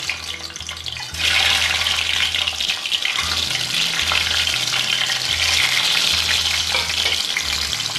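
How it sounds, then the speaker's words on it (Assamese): Eggs sizzle and crackle steadily in a hot pan over a lowered gas flame, a dense, hissing fry with occasional low clatter. "কণীকেইটা মই এতিয়া ভাজি লওঁ"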